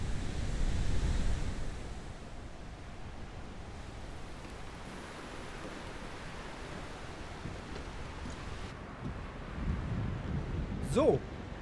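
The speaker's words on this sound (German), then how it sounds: "Das Meer ist so ruhig." Calm sea in A Plague Tale Requiem, a soft steady wash of gentle waves with a faint windy hiss, slightly louder at the start and near the end.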